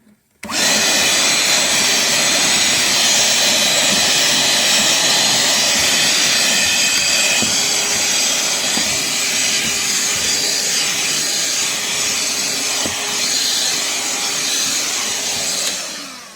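A Ridgid R860902B cordless vacuum runs loud and steady for about sixteen seconds, a close, continuous whooshing roar with small rattles of floor debris being sucked up, and no one speaking.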